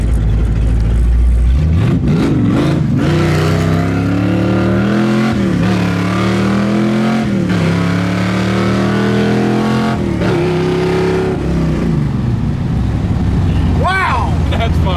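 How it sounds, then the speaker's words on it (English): A 1976 Plymouth Duster engine cranks, catches and roars to life, then revs hard several times in rising and falling sweeps, loud and close throughout. "We'll start it up for work tomorrow morning."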